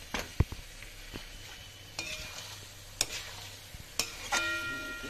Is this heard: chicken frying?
yes